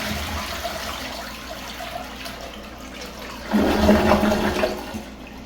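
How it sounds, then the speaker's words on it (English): Full flush of a Toto Aquia II dual-flush floor-mount siphon toilet: a quiet low hiss, then a sudden loud rush of water draining the tank that swirls for a couple of seconds and tapers off, close by and without voices. "Now we're going to hold down the button and get a full flush the proper way,"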